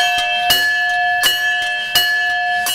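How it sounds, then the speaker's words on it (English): A strength-test bell in a Peppa Pig cartoon rings again and again, with sharp metallic strikes sounding every half second or so over a sustained ringing tone, loud and close. "Mummy's fury even causes the bell to fire up and down multiple times"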